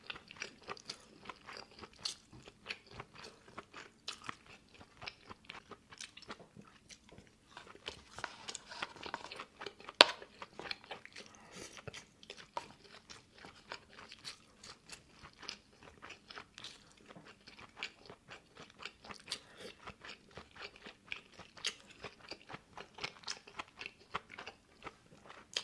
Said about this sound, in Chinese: 我觉得炸鸡这么光配白米饭吃也挺好吃。